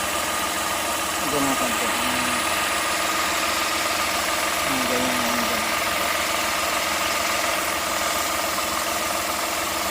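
A carburetor engine idles at 800 RPM with a tuned air/fuel ratio, giving a steady, even low rumble close by while someone speaks briefly over it.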